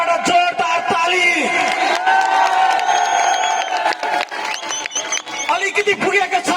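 A crowd at a Nepali Congress rally in Bhattar Bazar, Nuwakot, claps and cheers loudly for the party president, with shouts and whoops over dense, continuous applause close to the microphone.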